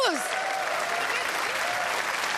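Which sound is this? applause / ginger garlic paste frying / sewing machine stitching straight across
applause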